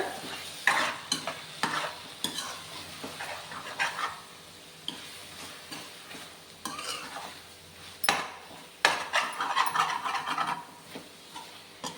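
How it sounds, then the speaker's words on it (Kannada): Methi leaves and egg frying in a pan while being stirred, with a steady soft sizzle and repeated scraping and clinking of a spatula against the metal, heard close with no talking. "ಇದು ನೀಟಾಗಿ ಫ್ರೈ ಮಾಡ್ಕೊಳ್ಳೋಣ ಹೀಗೆ ಕೈ ಆಡಿಸ್ತಾ ಇರಿ ಅವಾಗವಾಗ"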